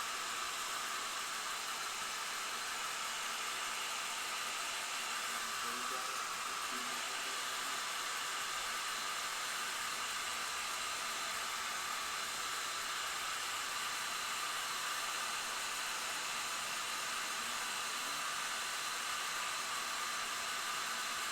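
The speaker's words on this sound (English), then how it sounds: "I'm going to use my hair dryer to speed this up a bit." Hair dryer blowing steadily to dry fresh paint on a model body, a constant airy whoosh and hiss held at an even level from start to end, close by with no other sounds.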